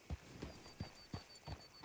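Horse hooves clip-clop in a steady rhythm, about five soft footfalls, as a horse is ridden in the video game Red Dead Redemption 2.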